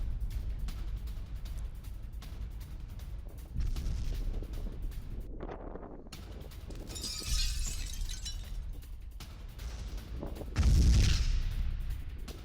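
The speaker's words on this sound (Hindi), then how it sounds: "एंगल्स बेस के पास किस तरह से जोरदार धमाके अंजाम दिए गए" Several heavy booms and cracking blasts from a distance, separated by rumbling pauses, with no speech; explosions from a strike near Engels air base in Russia.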